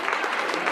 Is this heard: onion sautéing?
no